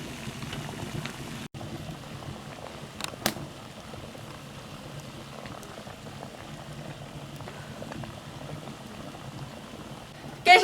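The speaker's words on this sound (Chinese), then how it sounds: "盖上锅盖，大火蒸15分钟。" Lotus leaf buns made from dough raised with an old sourdough starter steam in a covered pot over high heat, giving a faint, steady bubbling hiss with a few soft knocks and a clunk at the end.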